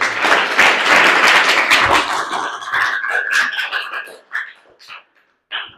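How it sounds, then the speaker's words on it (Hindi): Students in a classroom clap together after a maths lesson, a dense burst of clapping for about four seconds that thins and trails off into scattered claps and a short final flurry. "ताली बजाइए"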